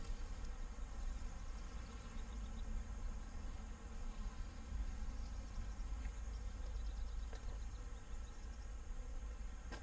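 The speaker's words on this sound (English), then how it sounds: "A lot more bees than what we started with, that's for sure." Honeybees at an open hive make a steady, dense low hum of many wings that fills the whole stretch without a break, fairly faint, with no talking over it.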